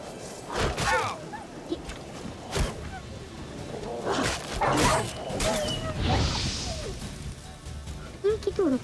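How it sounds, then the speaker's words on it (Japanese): Stray dogs in The Witcher 3 bark and yip in a pack, sharp repeated barks with whimpers and crashing scuffles, with occasional talk over the game sounds. "So these stray mutts form packs."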